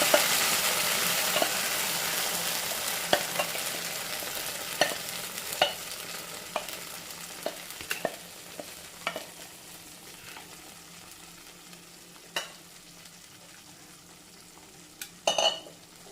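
Lentils stirred into hot ghee in a pan for a Kerala payasam, a continuous soft sizzle with repeated scraping strokes of a spoon against the metal and a louder clatter near the end.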